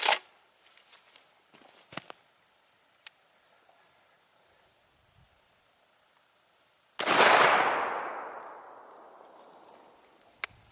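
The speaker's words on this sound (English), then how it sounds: "Target loads out of my M3000 Stugger. Let's get to shooting." Stoeger M3000 shotgun firing a target load at a bowling ball outdoors: one sharp, loud blast followed by a long, fading echo, with a few faint clicks and knocks before it.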